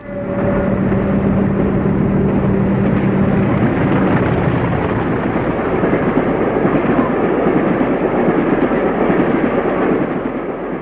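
A British Rail Class 40 diesel locomotive, no. 82, clagging past in summer 1984, with a loud, heavy engine rumble that swells as it passes close by. A brief steady tone opens the sound, and no one speaks.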